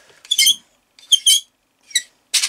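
Squeaky cover on a Geiger counter probe being opened to expose the beta window, giving four short, harsh, grating squeaks with brief pauses between them, close by and with no talking.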